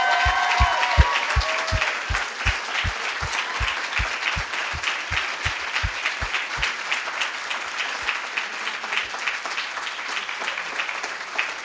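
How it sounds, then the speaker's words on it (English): Dense applause from a crowd at a students' union election results event, steady and loud for about eleven seconds, with a regular low thumping beat under the first half before it fades away. "we need to give everybody here a massive round of applause"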